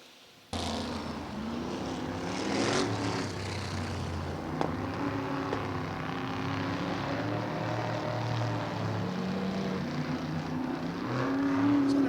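Several 305 sprint car engines roar steadily as the cars circle a track, their pitch rising and falling as they pass, loud and continuous.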